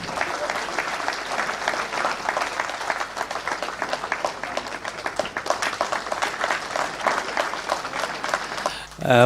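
A Humour Club audience claps warmly for several seconds to welcome two mimicry performers onto the stage, the individual claps crisp and distinct in a continuous burst that trails off near the end.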